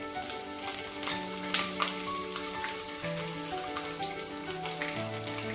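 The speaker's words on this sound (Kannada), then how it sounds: "ಈಗ 2 ಬ್ಯಾಡ್ಗೆ ಮೆಣಸನ್ನ ಹಾಕೊಳ್ತಾ ಇದ್ದೀನಿ." Byadgi chillies fry in hot oil with a steady crackling sizzle, close and even throughout, with a few brighter pops and faint tonal music underneath.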